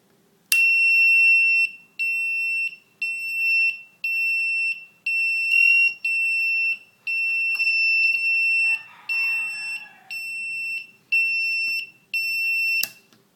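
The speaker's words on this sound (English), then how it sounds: "This is a 555 timer buzzer circuit." A 555 timer buzzer circuit pulses repeatedly in a steady on-off rhythm, loud shrill beeps about a second apart, with a faint brief rustle partway through.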